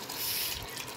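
Sesame oil pours into a pan while making tomato pachadi, a brief close liquid trickle lasting about a second.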